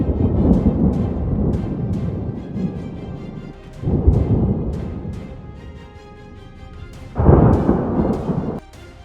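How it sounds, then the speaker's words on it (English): Thunder from a severe lightning storm in North Texas rumbles in long, heavy rolls, swelling again after brief lulls, with sharp crackling cracks scattered throughout. No one speaks. "Can you count how many lightning strikes hit during the severe storm that swept across North Texas?"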